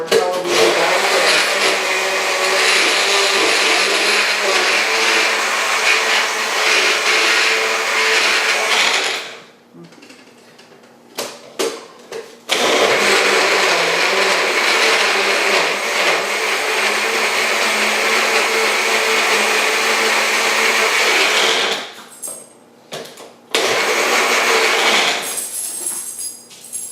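An electric blender purees peeled tomatoes for sauce with a loud, steady, high-pitched whir that runs about nine seconds, stops briefly, then runs another long stretch before a short pause and a final burst.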